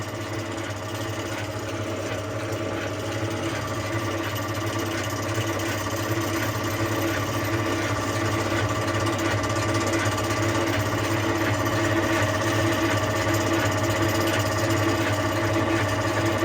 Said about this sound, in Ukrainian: Чотирьохкіловатний двигатель тут стоїть.